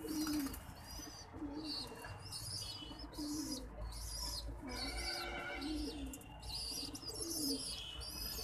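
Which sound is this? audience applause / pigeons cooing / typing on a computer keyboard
pigeons cooing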